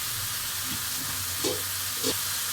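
A pan of broccoli and beetroot stems with boiled potato fries in a steady, even sizzle, with two soft stirring scrapes over the hiss and no voices.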